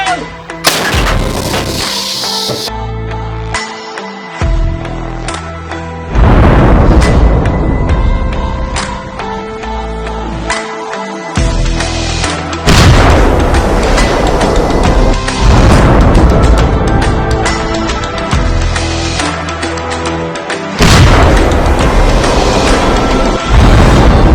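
An artillery cannon fired by a Ukrainian gun crew booms repeatedly, loud and close, each blast followed by long rumbling echoes and debris noise over about twenty seconds.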